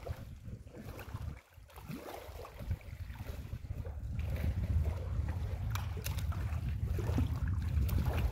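Strong wind buffets a fishing boat out on the water, making a low, steady roar that grows heavier and more constant in the second half, with no clear talk.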